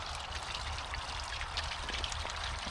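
A garden waterfall trickles and splashes steadily in a lush backyard planting, a continuous close rush of falling water with no voices.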